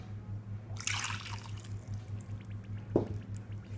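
Water poured into a bowl of carrot cake batter with eggs, sugar, milk and oil: a short splashing pour followed by a single drip-like plop, faint over a low background hum.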